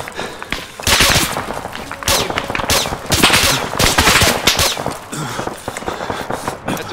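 Gunfire in Arma 3 during a Navy SEAL squad firefight, with dense bursts of rifle and machine-gun fire in rapid rhythmic strings, loud and close, with short gaps between volleys.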